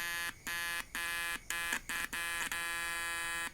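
A simple homemade capacitor tester's buzzer sounds loud and steady, broken by a series of short gaps as it cuts out and restarts, with no talking.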